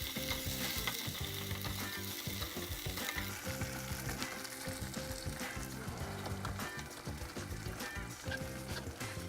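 Sliced onion frying in a pan with a spoon of tomato paste for a braised fish dish, a dense, steady sizzle with stirring, running continuously over a rhythmic background.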